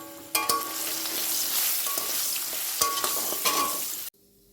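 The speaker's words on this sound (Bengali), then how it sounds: "আলুটাকে আমি একটু নুন হলুদ দিয়ে ভেজে নেব।" Potato pieces fry with salt and turmeric in hot oil, giving a steady, close crackling sizzle with scraping stirs. The sizzle stops abruptly near the end and leaves quiet.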